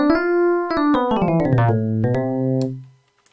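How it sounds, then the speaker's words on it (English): An 80s-style electric piano synth patch, played dry with no delay or reverb, sounds a few sustained chords with sharp note attacks that shift downward, then stops abruptly near the end. "So without the delay and reverb,"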